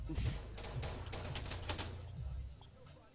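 Gunfire in the military shooter Arma 3, a short burst of rapid overlapping shots heard at moderate distance, fading after about two seconds into quieter background noise.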